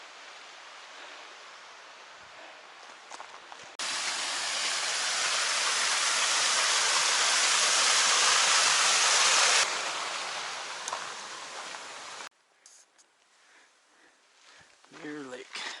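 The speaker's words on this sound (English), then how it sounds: "Waterfall." Waterfall beside the Mt Whitney trail near Outpost Camp, a broad steady roar of falling water that swells loud for several seconds and then drops back to a softer rush.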